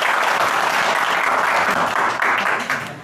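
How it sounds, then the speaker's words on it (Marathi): A classroom of students bursts into loud applause during a commerce lecture, dense rapid clapping that holds steady and then tapers off near the end. "बस टाळ्या भाऊ."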